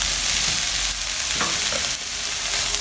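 Grated, squeezed radish being mixed with spices in a pan for mooli paratha filling, a continuous close frying hiss with soft stirring scrapes.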